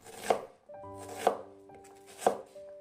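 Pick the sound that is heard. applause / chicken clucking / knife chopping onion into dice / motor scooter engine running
knife chopping onion into dice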